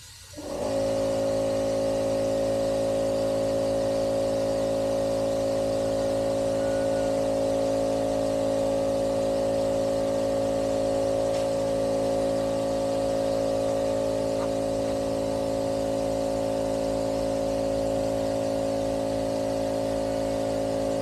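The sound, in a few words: noise from front of 1986 Pontiac Trans Am engine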